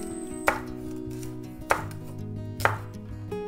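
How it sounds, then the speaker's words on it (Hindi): A knife chops the white portion of spring onions, three sharp cuts spaced about a second apart against a steady low background hum, close and clear with no talk. "अब वाइट पोर्शन काट लेंगे।"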